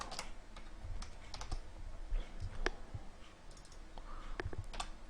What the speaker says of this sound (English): I really cannot type today.